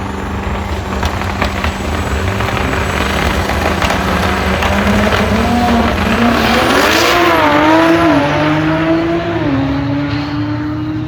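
A drag racing car launches and spins its tires, its engine roaring loud and steady while the pitch climbs and wavers as it pulls away, under a constant wash of crowd and track noise.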